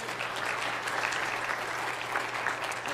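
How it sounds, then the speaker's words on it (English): Sustained applause from a church congregation at a Sunday morning service fills the space, many hands clapping evenly at moderate loudness for about three seconds over a faint low hum. "can you just give another round of applause?"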